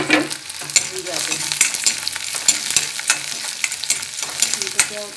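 Onions and black bhatt soybeans sizzle together in a pan, a close, steady crackling fry with small pops and scraping stirs, no talking.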